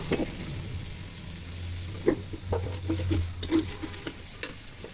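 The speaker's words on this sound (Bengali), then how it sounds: "এখন সবগুলো মশলা ভালো করে ঠান্ডা পানি দিয়ে কষিয়ে নেব।" A spoon scrapes and stirs turmeric, coriander and cumin paste loosened with cold water in a pan over a low sizzle, with irregular close clinks and scrapes.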